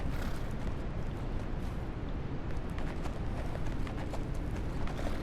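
Dense, continuous clatter of horse hooves in the video game Legend of Khiimori, loud and steady throughout with a rumbling low end and no clear talk.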